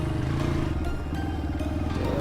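Dirt bike motorcycle on a trail with its engine revving under throttle, a loud, close, rough pulsing drone that dips briefly midway and surges again.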